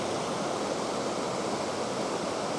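A waterfall roars as a steady, dense rush of falling water, loud and continuous with no breaks and no voices.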